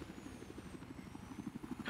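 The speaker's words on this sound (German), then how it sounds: "das ist der Transport-Heli" Rapid rhythmic thumping of a transport helicopter's rotor blades in the video game Battlefield 4, over a low engine drone, steady and moderately distant.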